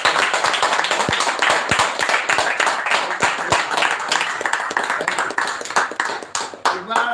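Audience applause at a sales training event, with sharp close claps standing out over a broader patter of clapping that thins toward the end, while a voice speaks over it.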